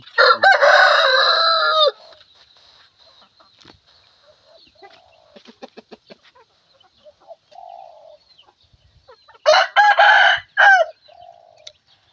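A rooster crows loudly twice, a long crow at the start and another later, with scattered clucking and chicken calls in between.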